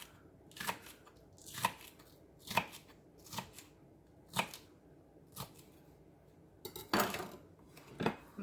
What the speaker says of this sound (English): we're gonna add some more of the green onion, just the pretty tops. I'm gonna slice just a few of those.